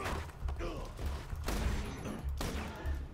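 Gunfire from a weapon in the video game Borderlands 2 rings out in loud, booming bursts over a low rumble, with heavy shots striking around the middle and near the end of the stretch.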